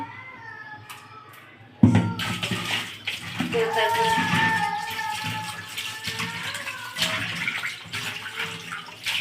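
Water pours and sloshes in a basin as fish are washed, a close, continuous splashing that starts abruptly and keeps churning, with voices talking over it.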